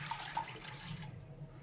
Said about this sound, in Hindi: ये हमारे पास 2-3 गिलास पानी है, ये हम डाल देंगे।